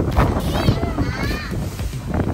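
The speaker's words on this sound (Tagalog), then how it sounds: "Sobrang hangin dito." Gusty wind in Mindoro, Philippines, buffets the microphone with heavy low rumble, while children and adults chatter close by.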